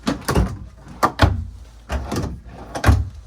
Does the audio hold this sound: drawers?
yes